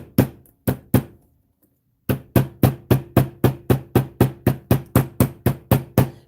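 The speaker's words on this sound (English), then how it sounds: "So I've got the rubber side of my block and the nylon side of my" Nylon hammer tapping metal on the rubber side of a block to work harden it in a craft room: three taps, a short pause, then a steady run of about a dozen evenly spaced, crisp knocks, close and loud.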